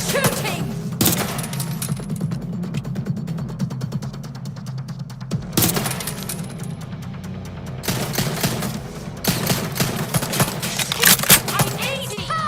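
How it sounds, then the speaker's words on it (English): Heavy in-game gunfire in Watch Dogs Legion, with dense bursts and thumping shots filling the scene, broken by several loud sharp volleys, with shouting voices mixed underneath. "Suspect is shooting!"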